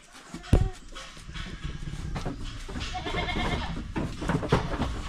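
Goats bleat loudly on a farm, several animals calling in overlapping, uneven bursts near the listener, with one sharp cry standing out early and steady farmyard noise underneath.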